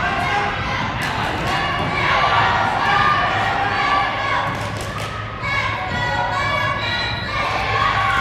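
The Wildcat bench cheers its team on at a state basketball game, a steady, loud crowd roar with shouting and occasional ball thuds, under continuous play-by-play commentary.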